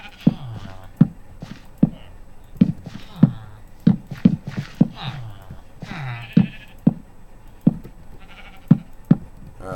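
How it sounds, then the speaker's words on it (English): Sheep in Minecraft bleat repeatedly from close by in short, sharp calls, mixed with regular knocking clicks at a quick, uneven rhythm. "Get that sheep out of my way."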